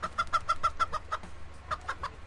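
Rapid clucking from a chicken in the Turbo Dismount physics game, a string of close, clear squawks that pauses briefly before a few more clucks, with no talking.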